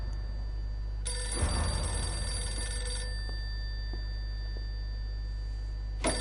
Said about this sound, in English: The red phone!